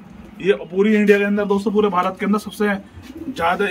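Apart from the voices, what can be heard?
pigeons cooing, red Amritsari Jaldar pigeons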